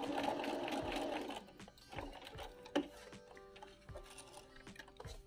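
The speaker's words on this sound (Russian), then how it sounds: "Так, все, мы строчку проложили." A sewing machine runs a seam in steady rapid stitching that slows into a few separate thumps and ticks near the end, close but fairly quiet, with no speech.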